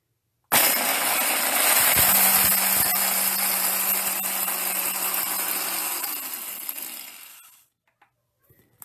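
Willow branches are cut up for willow water in a continuous stretch of close, loud, harsh chopping or sawing noise that runs for about seven seconds before stopping abruptly, with a brief low tone partway through.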